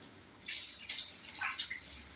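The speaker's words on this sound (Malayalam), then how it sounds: "ഇനി പെപ്സി ഒഴിക്കണം" Pepsi is poured into glasses, giving a few faint, fizzy bursts of liquid splashing and bubbling in quick succession with no voices.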